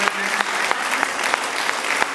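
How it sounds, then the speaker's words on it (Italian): A school audience gives steady, dense applause for the teachers at a park project event, loud and close throughout. "è il momento di un applauso ancora più corale, più grande"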